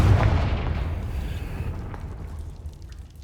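A Confringo fire spell detonates in Hogwarts Legacy with a loud booming burst at the start, then a rumbling tail slowly fading over the following seconds.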